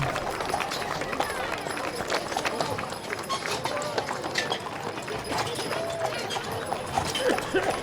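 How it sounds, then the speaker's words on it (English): At the 2012 West Virginia Strawberry Festival parade, a horse pulls a carriage with a quick, continuous clip-clop of hooves on pavement, heard under an announcer's steady commentary and crowd noise. "Another really nice looking carriage, a horse, Diane Daughtery, she's a rider."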